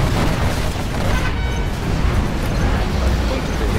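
Scud Storm missiles from Command & Conquer Generals, in a GLA battle against seven AI armies, explode in a dense, continuous roaring barrage of booms with no pause.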